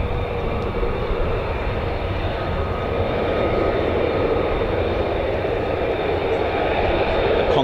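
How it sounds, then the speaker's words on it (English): Pratt & Whitney F100-229 engines on F-15 fighter jets at RAF Lakenheath spool up with a steady, loud, broadband roar and high whine that holds continuously, heard from a distance outdoors. "So you can hear the Pratt & Whitney's F100-229 engines start up."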